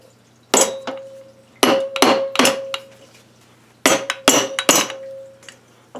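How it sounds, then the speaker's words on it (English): A rubber mallet strikes the crankcase of a 1980 Suzuki FZ50 motorcycle to crack the seal, giving about seven close, loud knocks in two clusters of three and four, with a brief ringing tone after each blow. "I'm going to use a rubber mallet."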